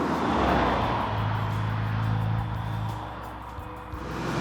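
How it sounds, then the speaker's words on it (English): A Morgan Plus Four driving with its exhaust in sport mode gives a steady, loud engine drone with a low rumble that eases slightly toward the end, heard close and without talking. "Switch it into sport mode and the exhaust pops delightfully."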